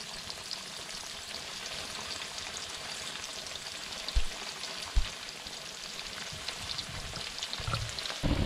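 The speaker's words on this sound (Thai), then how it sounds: "ทอดไฟอ่อนๆ" Banana chips frying in oil over low heat in a rural home kitchen, a soft steady sizzle and crackle running throughout with a few louder pops and clicks late on.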